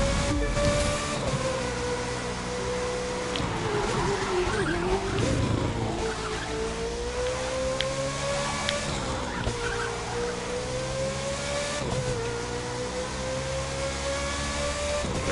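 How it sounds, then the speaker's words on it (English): A V10 car engine in the racing game The Crew 2 holds a steady, droning tone that dips and rises with shifts and throttle changes, loud and continuous, with some tire squeal in places. "It sounds like a V10."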